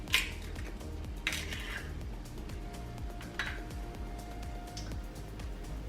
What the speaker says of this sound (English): next up, we will add an egg. Crack that right into the bowl